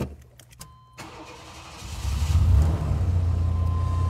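A 1991 GMC Syclone turbocharged pickup engine cranks and fires up, settling into a loud, steady idle nearby after a quiet start with a brief mechanical clunk.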